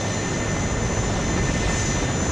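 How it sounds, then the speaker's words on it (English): Attack helicopters from the video game WARNO, including an Mi-24 and Mi-8s, roar in with a loud, continuous rotor and engine drone that holds steady and close throughout, with no voices over it. "Helicopters coming in here, so let's see what happens here."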